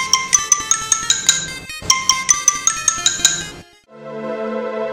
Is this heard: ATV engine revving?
no